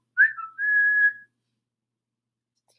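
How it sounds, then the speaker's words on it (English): A person whistles a short two-part tune, a brief rising note then a longer held tone, clear and close, followed by silence. "I actually enjoy whistling."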